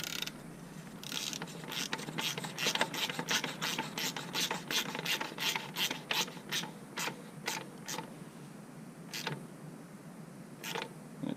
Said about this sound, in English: Uses a 24mm socket just like the factory one.